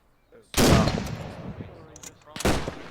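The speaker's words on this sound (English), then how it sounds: "He's firing at you, kill him." Loud, close enemy gunfire in a Tunisia battlefield shooter game, one long burst then a second sharp volley after a short gap, with faint voices underneath.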